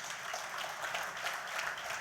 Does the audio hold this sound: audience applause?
yes